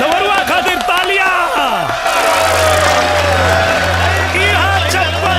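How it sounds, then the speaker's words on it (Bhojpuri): A crowd in a Bhojpuri film scene cheers and claps, with whoops and shouting voices over a steady low musical drone and a brief burst of noisy clapping in the middle. "डबरुआ खातिर तालियां।"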